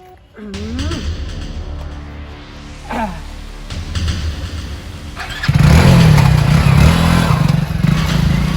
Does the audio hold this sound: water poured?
no